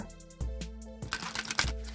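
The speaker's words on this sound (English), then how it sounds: "All right, one more shuffle." Cards being shuffled close up, a few quick riffling bursts with brief pauses between them, no voices.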